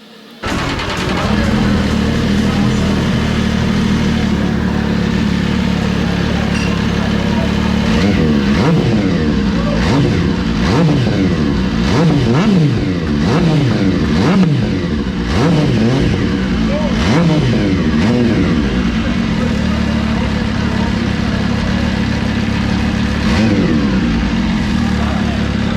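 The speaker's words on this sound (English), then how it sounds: "How many guys does it take to start a MV Agusta?" Limited edition MV Agusta motorcycle engine starts at an unveiling event, then idles and revs in loud rising and falling sweeps close by, with people talking throughout.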